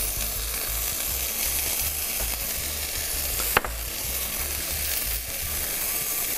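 Steak sears in a pan for a black pepper sauce dish, giving a steady, dense sizzle with faint stirring and one brief clink midway, close and constant without talk.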